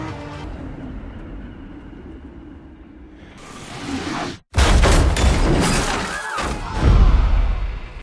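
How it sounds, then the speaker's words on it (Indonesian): A racing car in a film crashes and is flung into spectators: a sudden loud smash and thudding impact after a rumbling buildup, followed by continuing crash noise and debris. "Tiba-tiba tanpa diduga mobil Jan terpental dan mengenai beberapa penonton."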